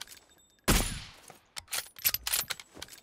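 A single loud sniper rifle crack in PUBG Mobile rings out and decays, followed by a scatter of quicker, quieter shots farther off.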